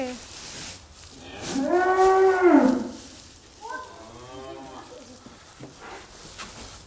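A cow lets out a loud, drawn-out moo close by, followed by a second, fainter moo, with quiet background noise between.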